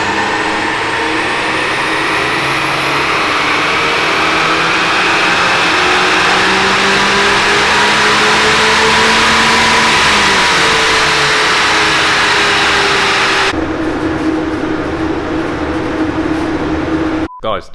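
An Abarth 500 engine running a new tune on a dyno revs up hard in one long sweep, the tone climbing steadily and loud for many seconds before cutting off abruptly; a brief bit of talk comes at the end.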